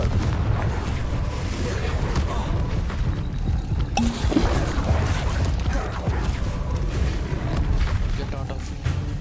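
Explosive Confringo spell blasts in the video game Hogwarts Legacy, loud booming bursts amid dense continuous game combat noise, with a sharp impact near the middle.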